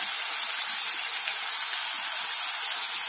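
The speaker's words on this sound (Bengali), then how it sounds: "এবার আমি এটাকে একটুখানি কষাবো।" Spiced prawn and cabbage masala, loosened with a splash of water, sizzles while being sautéed in a pan. A steady, bright, hissing fry holds close and constant throughout, with no talking.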